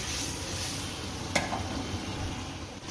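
Potatoes being sautéed for a Bengali banana flower curry (mochar ghonto) hiss with a steady, fairly quiet sizzle in the pan, with one sharp utensil clink in the middle and a small stirring scrape near the end.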